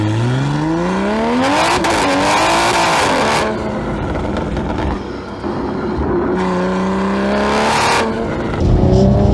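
A tuned 600 hp Toyota GR Supra accelerates hard, its engine climbing through several gears with rising revs and shift breaks, loud and close throughout.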